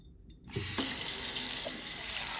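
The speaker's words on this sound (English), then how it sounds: "I fill up the can with water and then dump it in here" Water from a kitchen tap gushes into a can, starting abruptly after a short quiet moment and then running as a steady, close hiss, with a faint clink partway through and no talking.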